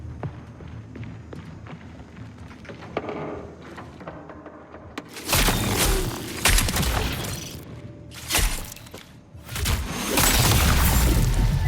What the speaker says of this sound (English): You hear some gunfire off in the distance